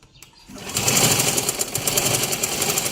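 A sewing machine runs steadily, stitching the side seam of a blouse: a close, continuous mechanical whir that starts up after a short quiet moment and holds at an even speed.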